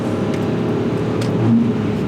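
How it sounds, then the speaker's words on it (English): BMW E46 M3 engine revving on a downshift, a close, loud steady drone that swells briefly into a blip of revs. "Let's do a downshift"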